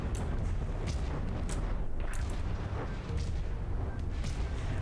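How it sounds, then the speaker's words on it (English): Cram shells explode during a battleship battle in the video game From the Depths, a dense, continuous rumble of booms and blasts with sharper cracks scattered throughout. "Bam, more cram explosions."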